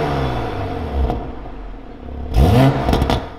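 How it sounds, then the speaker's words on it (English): A Toyota Supra fitted with an aftermarket FI exhaust, loud and close, its engine droning before a sharp rev rising in pitch near the end, with raspy exhaust crackle. "I could not find a stock Toyota Supra sound clip, so here's one with an FI exhaust"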